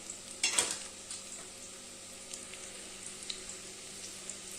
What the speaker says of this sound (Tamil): கடுகு பொரிஞ்சிச்சுங்க.